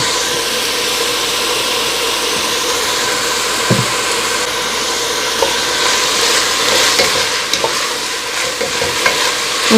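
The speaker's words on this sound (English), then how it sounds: "Go in and add the bits of ham and meat to the pot." Bits of ham and meat sizzle steadily in a pot with onions for Southern black-eyed peas, with continuous frying hiss and occasional stirring scrapes and clinks throughout.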